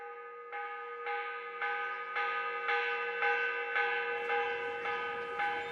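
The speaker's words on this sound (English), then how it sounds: "The morning bell." Church bell in the Assassin's Creed video game rings at dawn, about ten evenly spaced strikes, each blooming into a rich, sustained ringing tone, steady and fairly close, with no voices.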